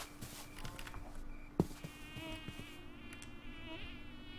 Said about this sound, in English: I really hate these mosquito sounds.